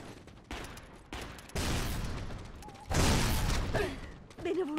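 Bursts of automatic gunfire in the online shooter Hounds: The Last Hope come in loud, uneven stretches, the heaviest volley near the middle, with a voice speaking briefly over the noise.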